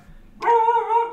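A dog lets out a single drawn-out, tonal bark or whine that starts suddenly and holds for most of a second, close and clear in an otherwise quiet room.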